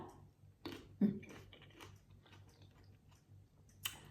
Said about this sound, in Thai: เคี้ยวเคี้ยวหน่อย